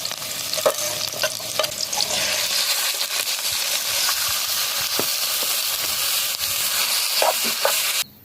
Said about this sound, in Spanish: Ya está caliente y ya le voy a agregar aceite.